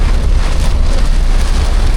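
Heavy rain pours down during a downpour in Singapore, a dense, loud, continuous hiss of drops striking surfaces, steady throughout with no voices.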